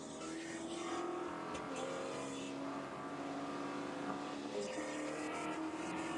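Onboard Spec Corvette race car at Virginia International Raceway, its engine a steady, loud drone that holds throughout with slight pitch shifts, while faint voices carry underneath.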